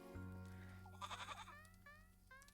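Goat bleating in the video game Little Goody Two Shoes: a few short, wavering bleats in quick succession over a steady low hum of game ambience.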